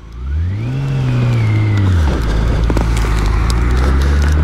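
A BMW K1600 GTL motorcycle rides in the rain, its engine note sweeping up and then settling into a loud, steady roar close by with wind and road noise, no talk.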